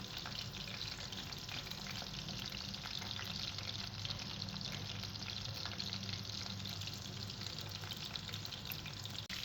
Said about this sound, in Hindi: चिकन हमने फ्राई पैन पे ऐड कर दिया है और फ्लेम को बिल्कुल हल्का कर लिया